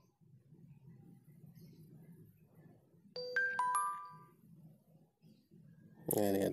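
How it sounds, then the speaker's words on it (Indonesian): Mobile phone SMS notification tone: a short, clear sequence of bright electronic chimes, rising above quiet room noise and low murmuring voices, followed by a brief burst of louder noise. "Nah, ini ada SMS."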